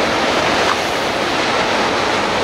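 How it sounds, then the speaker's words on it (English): Steady broadband roar of ocean surf breaking on a beach near a lake at Loch Sport, a continuous wash with no distinct wave peaks, heard alone without voices. "The ocean you can actually hear from pretty much where we're standing at the lake"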